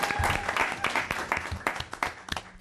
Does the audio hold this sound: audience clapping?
yes